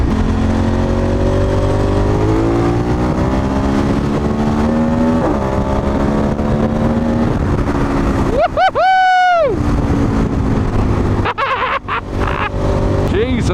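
A KTM 1290 Super Adventure S ridden fast along a coastal highway, its engine roaring loud and close under heavy wind rush, with rising and falling revs through gear changes.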